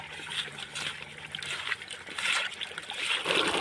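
Tiger prawns being washed by hand in water with salt and turmeric, giving close, continuous splashing and trickling with irregular swishes of moving water.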